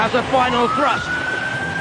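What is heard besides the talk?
siren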